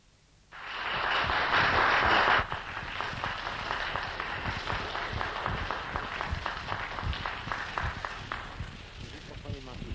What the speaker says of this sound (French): Applaudissements qui me montrent que j'ai devant moi non seulement un auditoire, mais enfin des sympathies réunies.